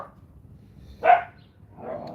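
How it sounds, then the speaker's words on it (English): Dogs bark in a vintage camper van setting: a single loud bark, then after a pause a softer, drawn-out yip, with quiet background hum and no talking. "Dogs are talking."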